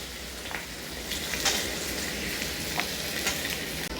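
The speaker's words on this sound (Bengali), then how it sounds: "মাছ ভাজার তেলেই আমি আলুগুলো ভেজে নেব" Carrots and potatoes fry in oil left over from frying fish, giving a steady close sizzle with a few sharper crackles and a faint clink of a utensil near the end.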